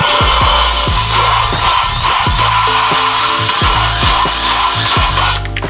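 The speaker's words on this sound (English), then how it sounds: "all I'm going to do is spin the drill" An electric drill spins an engine valve against its seat with cutting compound in an 18RG twin-cam head for an RA40. It gives a loud, steady grinding whir with repeated short scraping strokes and changes of direction.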